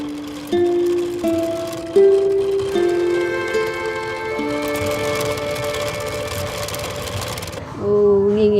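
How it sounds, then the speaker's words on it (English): A hand-cranked spinning wheel spins silk threads in a Cambodian artisan's workshop, giving a steady mechanical whirring hum with shifting tonal pitches, loud and continuous, briefly changing pitch near the end. "finally transferred to a hand-cranked spinning wheel"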